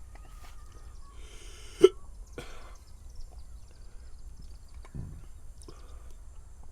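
A person hiccups a few times after tasting a hot pepper tincture. The hiccups are short and close, with one sharp, louder jolt and softer ones around it, in a quiet room.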